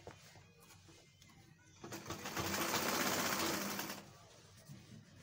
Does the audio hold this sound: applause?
no